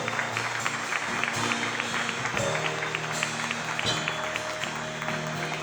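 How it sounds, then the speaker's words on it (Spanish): A church congregation claps during a sermon, a busy mid-level patter of hands with a few louder bursts, heard alongside some voices. "Alguien tiene que dar un aplauso al Señor por eso."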